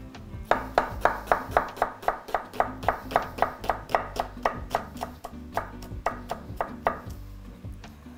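Knife finely chopping pepper on a cutting board in a home kitchen while making Hungarian brown soup, a steady run of about twenty crisp, close, evenly spaced cuts with no talking.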